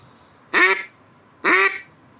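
Two short, loud quacks from a polycarbonate duck call, evenly spaced, sounding close and clear against quiet background.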